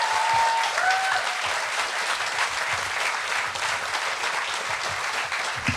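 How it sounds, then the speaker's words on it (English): A crowd applauds a political panel at a live discussion event on the future of Labour, with steady, full-room clapping that holds evenly from start to finish and no talking over it. "Can I get a round of applause for our entire panel?"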